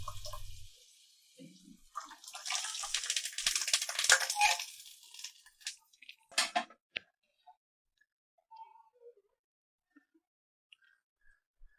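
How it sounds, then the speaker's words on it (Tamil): Tamarind water splashes and trickles into a pot of rasam for a few seconds, followed by scattered drips and small clinks in near silence. "அந்த புளி தண்ணியை அதில் ஊற்றிடலாம்."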